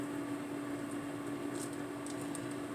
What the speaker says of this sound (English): I hope you can hear me over that air fryer.